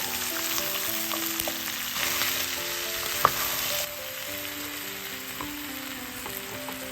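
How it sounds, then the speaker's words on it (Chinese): Pumpkin being stir-fried in a wok for a Cantonese pumpkin cake: a steady, close hiss of sizzling with one brief utensil clack, and soft background music underneath. "倒入南瓜翻炒，翻炒至南瓜稍微开始有香味变软。"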